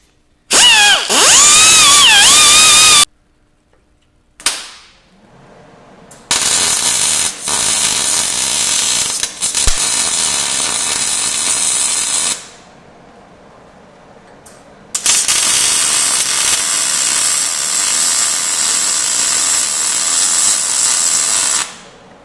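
Steering stop spacers are welded onto a Toyota Tacoma steering knuckle near the lower bump stops. The welding comes as three loud, close, steady crackling buzzes of a few seconds each, separated by short quiet gaps.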